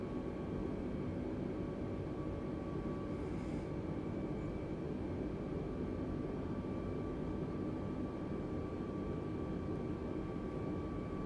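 An Airbus A320neo airliner flies on approach with flaps extended in Microsoft Flight Simulator 2020, a steady droning engine hum with faint high whine, constant and unbroken.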